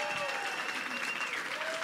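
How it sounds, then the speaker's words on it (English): An election-night crowd applauds steadily, dense clapping mixed with cheers and a whistle, loud and continuous throughout. "Give them a round of applause."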